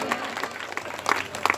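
A church congregation claps hands in praise. The applause is fairly steady and mid-level, with a few sharper bursts toward the end and voices mixed in.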